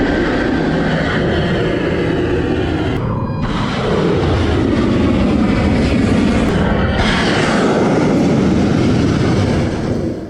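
US F-35C and F-18 fighter jets during attack operations roar loudly and continuously, a dense, close engine rumble that barely dips for the whole stretch.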